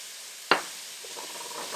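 Spam, pork and onions for chanpuru hit a hot pan with a sharp burst of sizzle, then settle into a quieter, steady frying hiss with faint stirring sounds.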